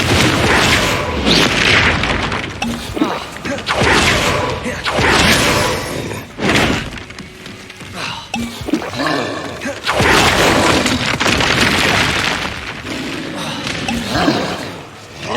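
Confringo blasting spells explode again and again during combat in the video game Hogwarts Legacy, giving loud, booming bursts with heavy thuds, mixed with other game sounds and brief voices.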